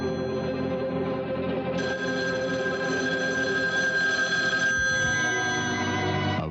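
A telephone rings continuously and fairly loudly in a home, its electronic bell tone sustained throughout with no voices over it.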